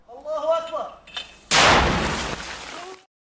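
A booby-trapped round of ammunition detonates with a sudden loud, close blast that rumbles and fades over about a second, preceded by a person speaking briefly.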